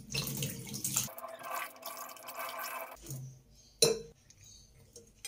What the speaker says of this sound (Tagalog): Napatuloy na po natin tubig.